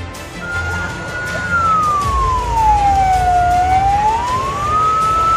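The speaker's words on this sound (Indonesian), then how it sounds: "Setelah 3 unit mobil damkar dikerahkan melakukan pemadaman api." Fire truck sirens at a house fire, a loud wailing tone rising and falling steadily over a low traffic and engine rumble, close by.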